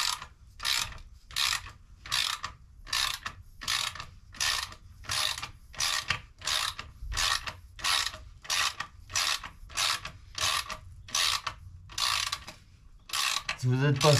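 A coil spring compressor cranks down on a Dacia Duster shock absorber spring, giving a steady run of about a dozen evenly spaced ratcheting clicks, close and fairly loud, ending in a brief metallic clunk.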